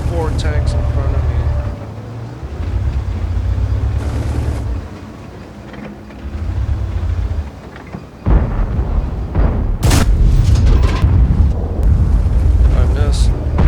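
Tank cannons fire in the World of Tanks video game over a rumbling engine bed: a couple of sharp, loud blasts crack out late, after a stretch of quieter engine drone.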